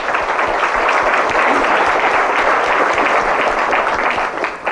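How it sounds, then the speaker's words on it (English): A room full of people clapping steadily, a dense wash of applause that holds strong throughout before starting to thin at the very end. "Let's give them a warm round of applause."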